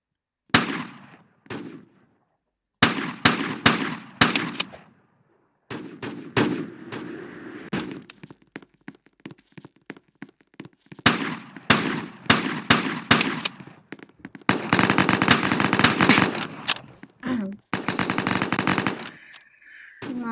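Video game gunfire in a Fortnite-style game played in Roblox: loud, close rapid bursts of automatic fire with short gaps between volleys, then a long sustained stretch of shooting near the end.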